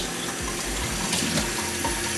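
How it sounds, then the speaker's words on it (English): Rice paper rinsed under warm running tap water, a steady close splashing stream with small bursts as the sheet is moved through the flow, continuous throughout with no speech. "if you just rinse it under some warm water"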